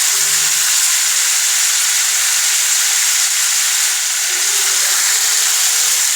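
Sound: raw mango pickle with batasa stirred while cooking

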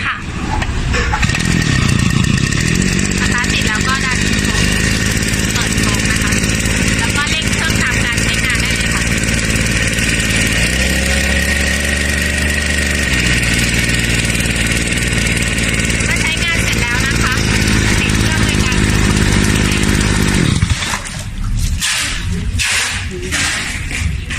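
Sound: portable 2-stroke Vigotech VG-WP52 water pump engine pull-started, running

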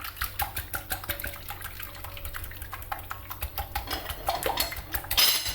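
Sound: whisking eggs in a bowl

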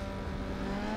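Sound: race car passing on grass in Need For Speed Underground 2 video game

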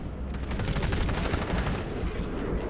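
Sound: gunfire in the video game Titanfall

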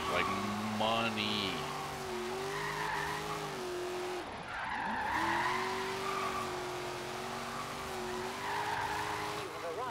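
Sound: Fox Body Mustang drifting, tires sliding, Forza Horizon 3 video game

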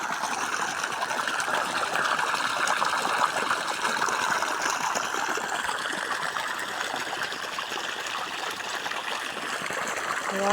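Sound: water flowing from pipe into field

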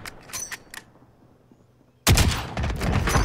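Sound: gunfire in Call of Duty video game

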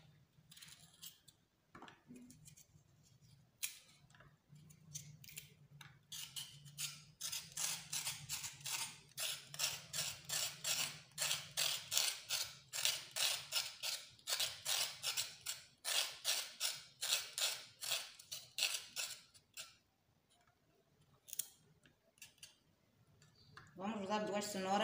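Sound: peeling carrots

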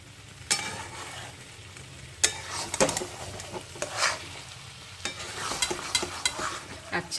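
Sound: stirring poppy seed paste (posto) frying in a pan

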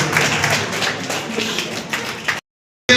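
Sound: applause

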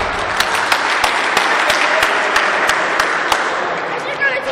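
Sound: applause at award ceremony

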